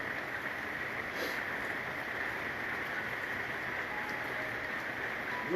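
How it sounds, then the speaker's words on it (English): Continuous rain on a grey day in Melbourne, an even, moderately loud wash of hiss with faint scattered drips, steady throughout with no talking. "beautiful rainy day."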